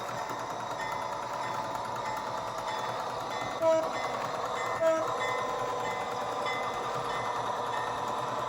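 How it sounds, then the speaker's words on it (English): A train rumbles steadily past at moderate distance, with two brief horn-like tones sounding over the continuous rail noise. "Well, I see a train is approaching."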